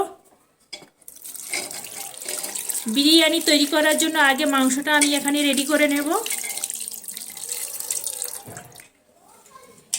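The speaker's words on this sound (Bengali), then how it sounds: "এবার আমি এখানে পরিমাণ মতন পানিটা অ্যাড করব" Water poured into a pot of marinated chicken for biryani makes a steady run of liquid lasting a few seconds, loud and close, while someone talks over it.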